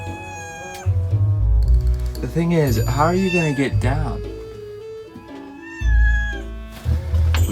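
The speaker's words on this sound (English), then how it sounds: "We've been boarded by a yard cat." A yard cat aboard a hauled-out boat meows in drawn-out, rising and falling cries, close and fairly loud, woven through a woman's speech and over a low background rumble.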